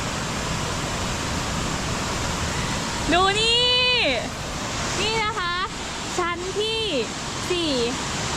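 Steady roar of Nam Tok Chet Si waterfall in Bueng Kan, Thailand, fills the background, with a voice talking over it in several short phrases.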